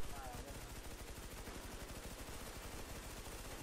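Gunfire rattles almost without a break in a video game match that includes sniper fire, with dense, loud shots that form a continuous barrage for the whole stretch.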